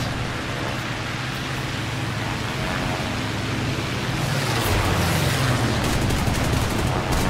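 Yak-9T fighter in War Thunder air combat: a constant roar of engine and wind, with a denser rattling burst of aircraft cannon and machine-gun fire swelling in the latter half.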